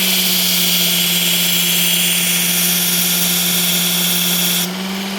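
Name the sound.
Work Sharp Ken Onion electric sharpener grinding hard steel knife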